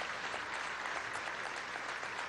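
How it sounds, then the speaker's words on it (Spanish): A crowd at a police graduation ceremony claps in a broad, continuous wash of applause that sounds distant and even, with no talk over it. "Desde aquí le damos un aplauso al Estado Monagas"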